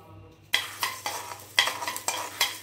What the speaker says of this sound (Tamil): எண்ணெய் விட்டு அந்த எண்ணெய் காஞ்ச உடனே இது எல்லாத்தையும் ஒன்றா போட்டிருக்கேன் நான்